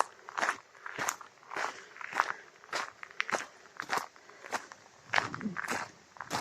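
Footsteps crunch at a slow, steady pace on a noisy public footpath beside a small waterway at East Tilbury, soft and close, with faint rustling between the steps.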